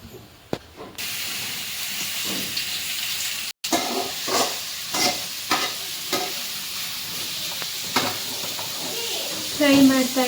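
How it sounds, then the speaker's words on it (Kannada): Ginger garlic paste and chopped tomato fry for chicken biryani in a steady hissing sizzle. Repeated spatula scrapes and stirs keep a loose rhythm after a brief cut, with a voice talking underneath. "ಫ್ರೈ ಮಾಡ್ತಾ ಇದ್ದಾರೆ ಚಂದ ನೋಡಿ, ಮಿಕ್ಸ್ ಮಾಡ್ತಾ ಇದ್ದಾರೆ ಚಂದ"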